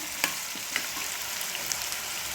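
Gooseberries sautéing in a pan for pickle, a steady low sizzle broken by a handful of light scraping ticks from stirring.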